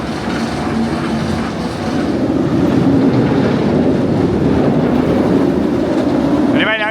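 A ride at Alton Towers theme park runs during staff test rides, a loud, steady rushing rumble with wind noise that continues throughout and rises slightly midway.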